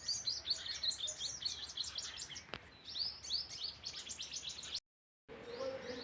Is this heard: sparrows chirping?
yes